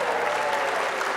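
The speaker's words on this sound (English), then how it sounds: "How about a nice round of applause" Steady, dense applause from a TV studio audience for Elton John, sustained and fairly loud throughout the short stretch.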